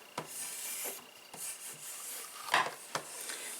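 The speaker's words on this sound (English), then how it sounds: "Now you can also strop your blade, which also helps to clean the residue that's left on there." A tracker knife blade is stropped on a strop dressed with fine green compound. It makes a series of soft, rasping strokes at a regular pace, close and fairly quiet.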